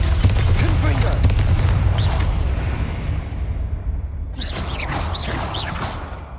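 A Confringo blasting spell explodes in a Harry Potter video game with a loud, deep rumbling boom that fades over a few seconds, then swishing magical whooshes and crackles follow.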